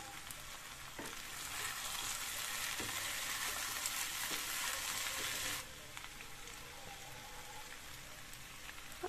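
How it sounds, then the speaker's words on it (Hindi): Pumpkin mixed vegetables with capsicum frying in a pan, a steady dense sizzle with occasional stirring knocks, close and loud, easing to a softer crackle partway through, no talking. "अब इसमें हम शिमला मिर्च को मिक्स कर देंगे।"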